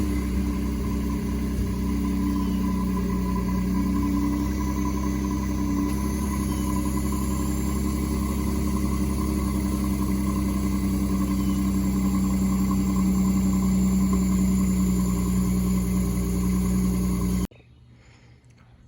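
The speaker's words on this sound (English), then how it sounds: "cold start." A Ford F-150 with the 3.5 EcoBoost engine and its stock resonator idles steadily after a cold start, with a loud, constant, droning low hum and no talking.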